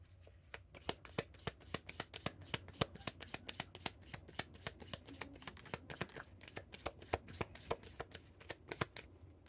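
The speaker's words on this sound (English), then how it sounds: "It's hard even to hold the cards right now for some reason." Playing cards being shuffled by hand, a rapid series of crisp riffling snaps repeating steadily and close up, with no voices.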